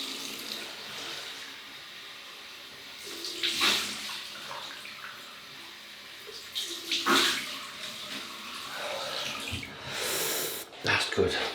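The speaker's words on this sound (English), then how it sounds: "Right, we'll have a cold water rinse." Cold tap water splashes and runs during a post-shave face rinse, in several bursts with audible breathing and snorts between them. The sound is close and moderately loud.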